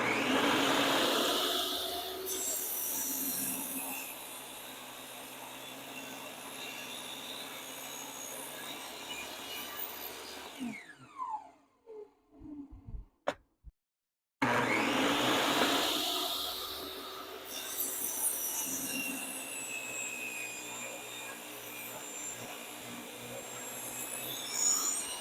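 A portable table saw with dust collection runs loud and steady, and its blade rips through wood. The motor winds down about halfway through, a short quiet gap follows, and the saw spins back up to full roar.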